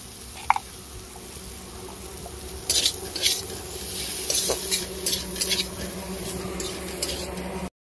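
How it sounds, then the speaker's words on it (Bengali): Potatoes sauté with cumin, coriander and garam masala powder in a pan, a quiet sizzle with bursts of stirring and scraping, plus a sharp tap near the start. "ভালো করে আলুটা কষিয়ে নেব"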